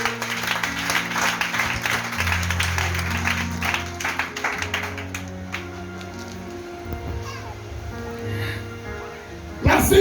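A church congregation at a Pentecost service claps loudly for Jesus, a dense close wash of applause under sustained organ or keyboard chords and voices that thins toward the end.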